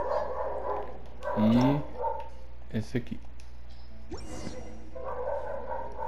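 Dogs bark and yip in the video game Genshin Impact, a few short close barks scattered among a speaker's voice.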